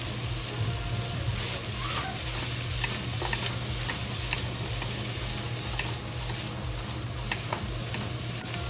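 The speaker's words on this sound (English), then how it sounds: "And we added the carrots and celery into it" Carrots and celery frying with browned ham in oil in a pan, giving a continuous sizzle with scattered ticks and scraping stirs, steady and close, with no one talking.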